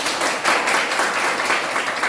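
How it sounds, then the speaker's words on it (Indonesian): Schoolchildren clap together in an elementary school classroom in Namohalu Esiwa, a dense, steady burst of many small hands that fills the room, loud and close, without speech. "Bagus, tepuk tangan."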